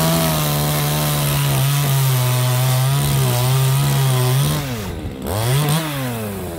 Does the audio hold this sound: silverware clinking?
no